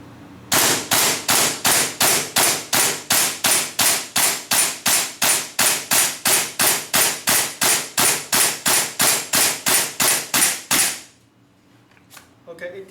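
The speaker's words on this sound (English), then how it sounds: "now I try to fire as many rounds as possible." A WE SCAR-H airsoft rifle fires around thirty sharp, loud shots in a steady rapid rhythm for about ten seconds, then stops, followed by faint mechanical handling noise.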